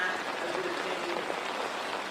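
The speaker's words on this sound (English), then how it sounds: "it's raining really bad now" Heavy rain pours down at an outdoor community rally, a dense, continuous hiss of drops hitting surfaces that stays even and steady throughout, with no voices rising above it.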